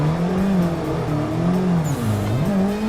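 A car engine revving hard while drifting in a racing video game, the pitch rising and dipping as the throttle is worked, with brief tire squeal and no talking.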